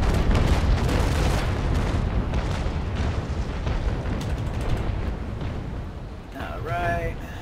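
Ship cannon fire from the USS Constitution during a large fleet battle in Naval Action, heard as a long, loud rolling barrage of booming broadside shots that rumbles and fades, with a voice briefly near the end.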